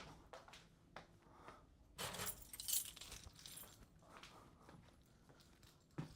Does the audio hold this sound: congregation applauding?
no